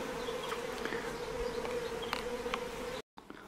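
Honey bees at an apiary on a hot +36°C day make a steady, dense buzz close by, continuous until a sudden brief cut near the end.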